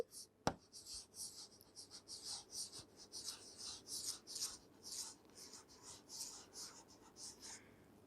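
Writing on a board during a Class IX biology lesson on plant meristematic tissue: a steady run of close, scratchy strokes in quick bursts, with one sharp knock near the start and no talking.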